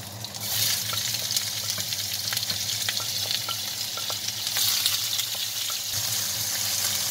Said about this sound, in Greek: Θα βάλω πάλι ελαιόλαδο και θα σοτάρω το κρεμμύδι μου.